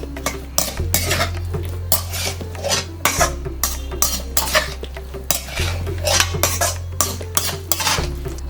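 A spoon scrapes and clatters steadily around a pot as spices and salt are stirred into a white pumpkin stew, a close, rhythmic metallic stirring with no talk.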